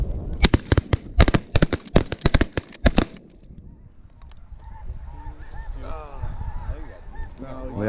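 Snow geese honk as a flock passes over a pasture pond. Shotgun blasts crack loudly and in quick succession at first, then the birds' calls carry on more faintly and at a distance, with some voices low underneath.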